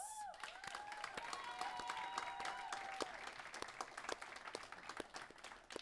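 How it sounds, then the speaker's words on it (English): A crowd gives sustained applause to athletes at the Curtin Sports Awards, dense clapping continuing throughout with faint voices mixed in. "feel free to give them a round of applause each"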